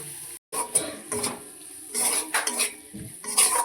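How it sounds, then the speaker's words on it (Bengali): Stirring mustard oil into a thick, spiced fish curry (gurjali fish jhal) in a pan: close, irregular scraping and clinking of a utensil against the pan, with a brief silent gap near the start and no talk. "এবার এই তেলটাকে মিশিয়ে নেব।"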